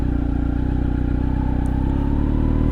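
A motorcycle engine runs close by as the rider adds throttle to pull away, a steady loud rumbling drone that holds fairly even throughout.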